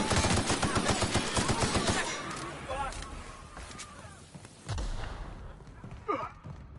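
Rapid bursts of gunfire in the video game Devils Mayhem crackle loudly for about two seconds, then thin out into scattered shots and effects while voices shout over the action.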